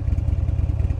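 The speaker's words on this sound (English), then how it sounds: "This is a Harley motor." A Buell sport bike with a Harley engine idles close by, a low, pulsing thump with a fast, slightly uneven beat and a rattly edge, steady throughout.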